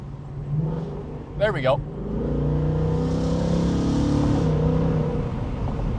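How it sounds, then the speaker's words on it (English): A 2025 Ford Mustang RTR Spec 3 convertible with a 10-speed automatic, its engine revving up steadily through downshifts from inside the cabin, a sustained mid-loud drone under a brief spoken remark. "God, you just got to click downshift a couple times"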